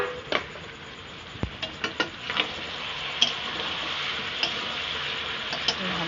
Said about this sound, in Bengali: চিকেনটা আমি ম্যারিনেট করে রেখে দিয়েছিলাম, এবারে দিয়ে দিচ্ছি, দিয়ে কষে নেবো ভালো করে